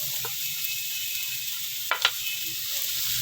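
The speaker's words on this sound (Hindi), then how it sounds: "इसको भी तकरीबन हल्का सा 1 मिनट फ्राई करेंगे।" Capsicum frying in a pan for spring roll filling, a constant close hiss of sizzling oil with a couple of brief stirring scrapes, loud and steady, with no speech.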